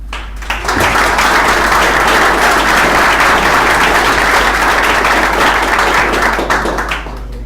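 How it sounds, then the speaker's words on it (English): A meetup audience in Berlin gives the speakers loud, sustained applause that rises quickly, holds steady for several seconds and fades near the end, with a low hum underneath. "So give them a warm applause."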